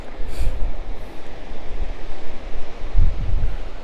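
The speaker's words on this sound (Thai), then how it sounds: "แล้วแบบโหฟังคลื่นนะคะ" Low rumbling surges of sea waves below a cliff by a lighthouse, with deeper swells rolling in near the start and again toward the end over a constant windy hiss.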